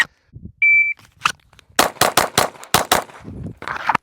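Glock 19X pistol fired at an indoor or range setting: a shot-timer beep, then a rapid string of about six sharp, loud shots in quick succession, followed by a softer rustle.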